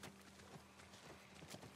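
Faint clip-clopping horse hooves in a video game, in a quick, steady rhythm over a constant low hum, with no voices.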